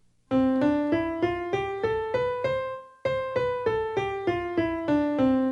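A bright, plucked-synth tone steps upward through a scale, one note at a time in an even rhythm, then after a brief gap starts the run again.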